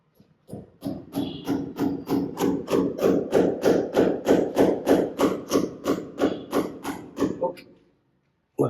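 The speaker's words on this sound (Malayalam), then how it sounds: "ഇപ്പൊ ഒരു ആണി അടിച്ച് അടിച്ചു നോക്കാൻ വേണ്ടി പോവുകയാണ് ആണി അടിച്ചു നോക്കാം" A hammer drives a nail into a gypsum wall in a quick, even run of about twenty sharp strikes that build and then ease off, close and loud, followed by a brief pause.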